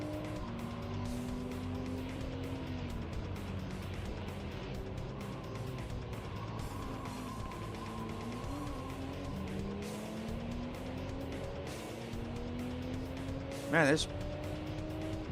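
A hatchback races in a video game, its engine note rising and falling through repeated gear changes, with a brief tire squeal near the end and someone talking over the top.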